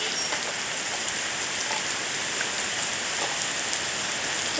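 Steady monsoon rain pours down continuously in a rural yard, a dense hiss of drops striking surfaces nearby, with no voices and an even, unbroken intensity throughout.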